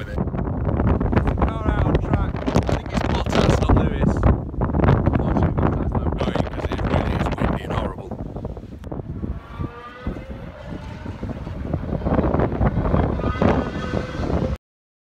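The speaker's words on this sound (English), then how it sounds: "it's so windy" Strong wind buffets the microphone outdoors at a wet, windy airfield, roaring as a loud, continuous rumble that runs through the whole stretch, with faint whistling gusts and a distant engine-like drone near the middle.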